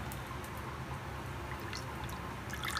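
Water is poured steadily into ghavane batter for a Konkani dish, a soft, quiet liquid splash against faint background hiss, with no talking.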